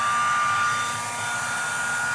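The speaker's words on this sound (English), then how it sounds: "There is help, and it comes in the form of a hairdryer." A hair dryer blows with a steady, loud, airy whine, running continuously without talk.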